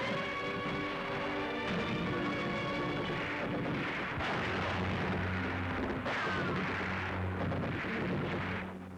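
Mine explosions set off by the flying chains of a flail tank in Normandy, 1944, carried as a continuous, heavy rumbling roar of blasts and engine noise under newsreel music, with no speech.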